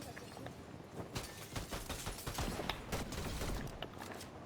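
Gunfire in the Fortnite video game sounds as rapid, muffled bursts of shots in a dense stream, heard over a busy game backdrop.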